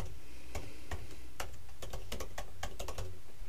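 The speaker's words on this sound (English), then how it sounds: "Please confirm by typing in your email address." Rapid clicking keystrokes on a computer keyboard as an email address is typed in, irregular taps close and clear over a steady low background hum, with no talking.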